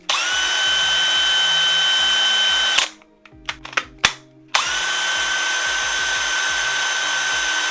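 A DeWalt DCD998 cordless hammer drill on an 8 amp battery runs steadily on speed 3, a loud continuous whine that stops briefly with a few clicks and short bursts before spinning up again.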